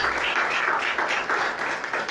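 A church congregation breaks into dense, continuous applause during a sermon, a steady wash of many hands clapping with no single clap standing out.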